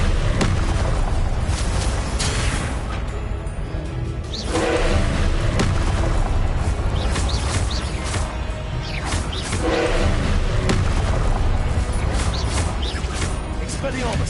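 Loud, dense booms and crashes of the Confringo fire-blast spell during combat in Hogwarts Legacy, continuous and close, with a player's voice over the din.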